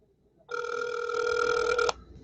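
A single telephone ring on a call-in talk show, one steady electronic trill lasting about a second and a half, heard clearly and alone with no talk over it.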